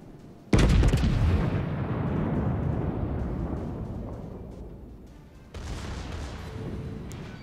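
Two heavy booming blasts of naval gunfire in the battleship video game World of Warships, the first loud and rolling into a long decaying rumble, a second salvo following a few seconds later.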